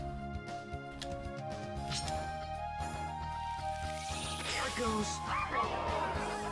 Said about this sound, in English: What are you barking at, dog?